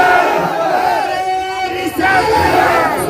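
A large religious gathering answers a Nara-e-Takbeer call with a loud, unified chanted shout, many voices rising together in a swelling roar, close and dominant.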